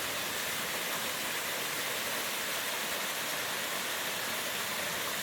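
Buttermilk Falls, a Kentucky waterfall reached by a hiking trail in fall, pours in a steady, broad rushing roar that stays even and constant, fairly close and with no voices.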